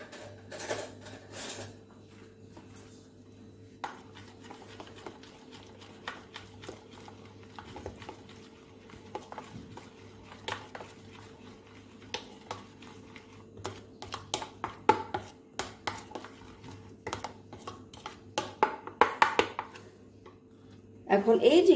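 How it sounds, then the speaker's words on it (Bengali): Sour curd is whisked in a bowl for a Bengali hilsa paturi mixture, giving light, irregular clicking and tapping strokes that grow quicker and louder toward the end over a low steady hum. "টক দই অ্যাড করার পরে আমি খুব ভালোভাবে ফেটিয়ে নেব।"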